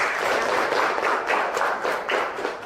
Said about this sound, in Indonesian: Tepuk tangan dulu untuk kelas ini.